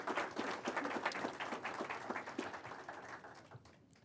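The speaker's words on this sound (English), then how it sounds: "please give a round of applause to all these hardworking people" An audience applauds hardworking staff at a Kansas State University athletic director announcement, with steady hall clapping that slowly tapers off near the end.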